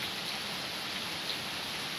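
Heavy rain falls at night in Porto Alegre as a dense, steady hiss of close drops hitting the ground, with no voices.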